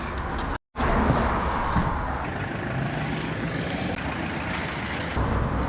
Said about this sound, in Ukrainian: Машина поїхала, на душі стало легше.